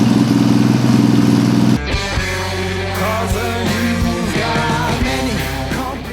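Custom motorcycle named VANTA, freshly wired and built with all-new parts, fires up: a loud steady idle that drops into a lumpy, rumbling run with occasional revs, heard up close with no talking.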